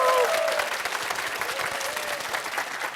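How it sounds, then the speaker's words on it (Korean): Dense, sustained applause from an audience at a televised university talk concert greets a guest, a professor and retired 38-year police officer, holding steady and loud for the whole stretch with a few brief tonal cries early on. "경찰관 인생을 전설로 바꾼 이금영 멘토를 여러분 큰 박수로 부탁드립니다"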